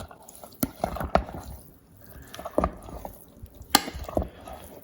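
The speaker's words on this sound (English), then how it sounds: "I do hear some slow bubbles, so something is happening" Slow, sparse bubbling and soft drips from a fermenting Finnish homebrew makgeolli with rice: a few scattered pops and gurgles heard close by, separated by quiet pauses.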